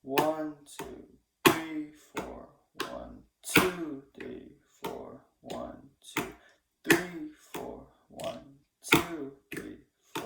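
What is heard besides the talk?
Korean drum rhythm played with both hands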